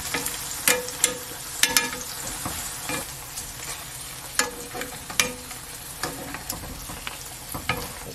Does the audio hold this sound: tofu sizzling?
yes